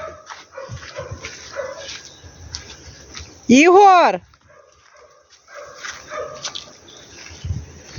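A dog gives a single loud, sharp bark up close, surrounded by the background chatter of someone speaking Ukrainian.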